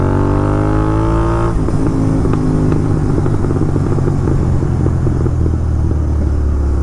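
A 650 motorcycle with a Red Rooster aftermarket exhaust revs hard, its rising engine note dropping into a loud, continuous rumble scattered with crackles and pops.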